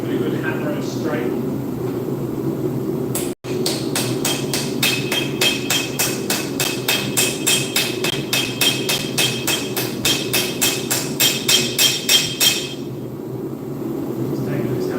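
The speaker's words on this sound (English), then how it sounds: "Give it a good hammer and straight" Hammer blows on hot steel at a forge ring out in a steady rapid series of about thirty sharp strikes, close and loud over a constant background hum, with one isolated hit early on.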